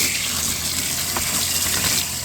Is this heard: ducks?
no